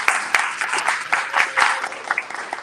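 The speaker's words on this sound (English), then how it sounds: "another round of applause for Sarah Coble." Audience applause at a live book conference in San Francisco, a room of clapping hands sustained for a few seconds with scattered sharper claps, moderately loud and close, no talking over it.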